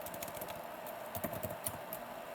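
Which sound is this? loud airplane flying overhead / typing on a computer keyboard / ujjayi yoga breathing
typing on a computer keyboard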